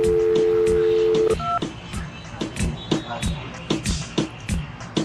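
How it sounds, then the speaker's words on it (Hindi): Phone number being dialed on a handset, a few steady touch-tone beeps near the start followed by a series of short sharp key presses in a quick irregular rhythm, close and clear. "ये डायल नंबर डायल कर रहा हूँ।"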